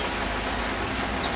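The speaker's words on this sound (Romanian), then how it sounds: "Plouă de vreo 6 ore" Steady rain pours down outdoors during a bicycle tour, a loud, dense, continuous hiss of drops with no breaks and no voices.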